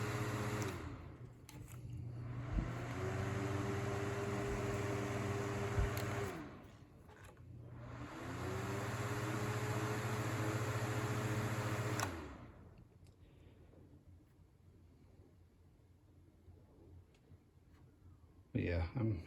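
Duracraft Turbo DT-70 fans from 2004 run with a steady whirring drone that drops out twice and then fades to a faint hum.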